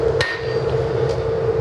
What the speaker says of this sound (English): So what we'll do is we'll use our wooden hammer